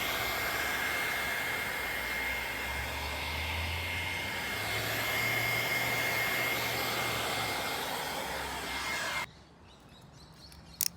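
Heat gun blowing hot air to warm the weather shield on a BMW X5, a steady close roaring whoosh that holds for several seconds and then cuts off.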